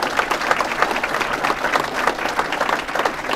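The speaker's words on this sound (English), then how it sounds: "let's give Jason a round of applause." Audience applause fills a talk-event room, a dense, steady patter of many hands clapping at even loudness throughout, with no voices over it.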